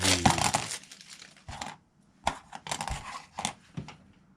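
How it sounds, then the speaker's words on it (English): A small white plastic bag holding parts from a Revell Bronco Buggy and Trailer model kit crinkles and rustles close up, in irregular bursts with brief pauses between handlings. "One more smaller white plastic bag with"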